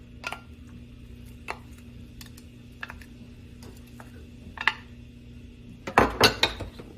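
Celery and onions are stirred in a pot with a few separate clinks and scrapes of a spoon, sparse and quiet, then a short burst of louder clatter near the end, close by and with no talking.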